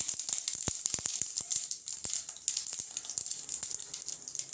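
Mustard and cumin seeds splutter in hot oil, giving rapid, irregular pops and crackles over a steady sizzle. The sound is close and fairly loud throughout, with no voices.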